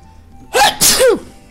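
A character in the A Bug's Life video game sneezes, a short inhaled build-up followed by a quick double sneeze, clear and close against faint background hum.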